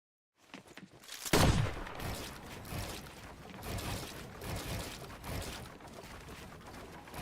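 Gunfire in Fortnite Reload ranked play: after a brief silence a sharp close shot breaks in, followed by a rapid, uneven string of shots and bursts that continues throughout.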